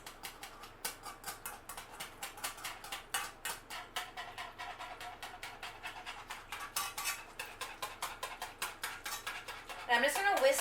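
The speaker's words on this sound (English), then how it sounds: "I'm going to whisk this" A whisk beats a cornstarch mixture in a pot, producing quick, regular metallic clicks and taps against the sides in a steady close rhythm, with a brief louder scrape at the end.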